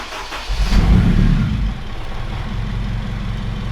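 A turbocharged Acura RSX engine idles loudly nearby, swelling in a brief rev before settling into a steady, deep rumble.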